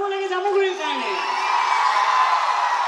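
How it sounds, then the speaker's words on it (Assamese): Cheering, whooping and clapping rise from a crowd at a live music concert in Jamuguri, Assam, a loud, continuous wash of voices and applause. At the start it sits under a voice and a sustained tone. "এটা ডাঙৰ হাত চাপৰি হ'ব লাগে জামুগুৰিৰ কাৰণে"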